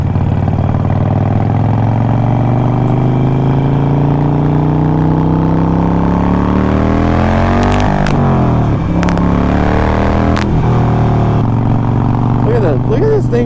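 A 2008 Harley-Davidson motorcycle engine thrums loudly and continuously while riding, with rising and falling revs as it shifts and accelerates, close-up under wind.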